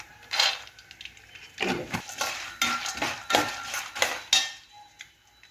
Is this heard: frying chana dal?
yes